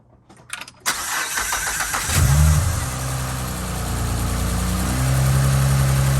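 A few clicks and a starter crank, then an Acura RL engine with a new timing belt and water pump catches and roars to life, settling into a loud, steady idle up close.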